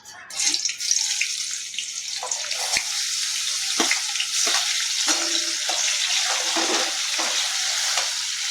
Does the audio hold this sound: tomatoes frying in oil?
yes